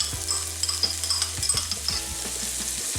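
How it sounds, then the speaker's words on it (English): Onions and minced garlic frying in a pan in a venison stuffed pepper recipe, giving a steady close sizzle with occasional utensil scrapes and stirring clinks against the pan. "my onions are cooking down a little bit. I'm going to add a little bit of minced garlic"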